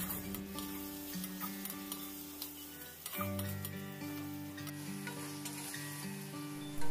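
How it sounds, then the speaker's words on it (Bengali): Spice paste of onion, garlic, ginger, cumin, coriander and chili powder sautés in a pan for khichuri, giving a steady close sizzle with stirring scrapes, under steady background music. "মশলাটা ভালো করে কষিয়ে নেব।"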